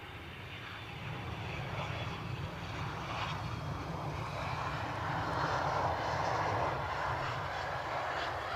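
Business jet at Edinburgh Airport on a windy day, a broad steady engine roar that swells gradually and stays loud throughout, with rumbling low wind noise underneath.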